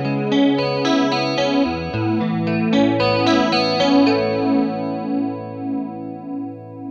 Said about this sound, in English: hi-fi shimmery kind of chorus sound